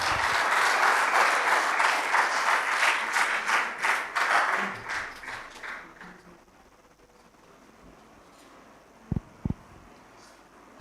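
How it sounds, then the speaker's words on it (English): An audience claps enthusiastically for several seconds, then the applause fades out, leaving near silence broken by two sharp taps. "after a big round of applause as we invite him"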